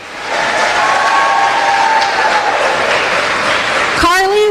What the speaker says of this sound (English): Please help me in giving Carly Ryman Gall and her stage decorating committee a round of applause for this beautiful stage.